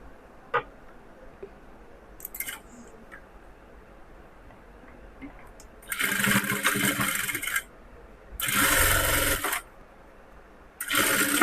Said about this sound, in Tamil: ஸோ இப்போ இங்கேருந்து ஸ்ட்ரைட்டாக அப்படியே தையல் போட்டுக்க போகிறோம்.